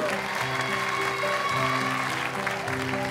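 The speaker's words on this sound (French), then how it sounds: "Il y a Léa, que je vous demande d'applaudir, mesdames, messieurs" A studio audience at a French children's TV talent show claps in a steady round of applause, with a host's voice speaking over it.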